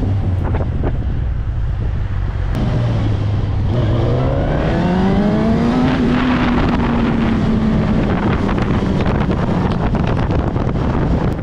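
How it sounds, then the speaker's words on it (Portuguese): Heavy, constant wind buffeting roars across the microphone while the engine of a Suzuki SRAD 1000 motorcycle with a straight-through exhaust drones underneath, its pitch rising and settling as the ride speeds up on an avenue. "você percebe muito mais barulho do vento"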